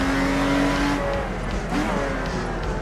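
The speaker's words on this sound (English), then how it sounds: "I turned the volume up on the game just for the in-car and out-car engine" A Lotus Exige V6 Cup car engine in a racing video game, running as a loud, continuous engine drone with shifting revs and a steady low rumble.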